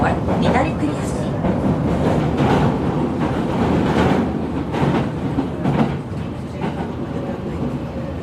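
A local train in Tokyo rumbles steadily along the rails, loud and close, with a continuous rolling roar from start to finish.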